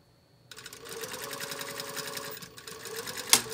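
Sewing machine back tacking at the edge of a patch bluff pocket, a quick close run of rapid stitching lasting about three seconds, with a sharp click near the end.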